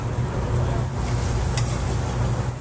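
Diced tomatoes drop into a hot pan and sizzle, giving a continuous crackling hiss over a low hum, with a brief sharper splatter partway through.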